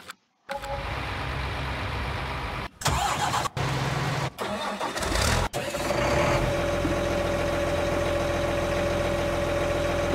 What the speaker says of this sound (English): You think I can pull it with my big boy tractor?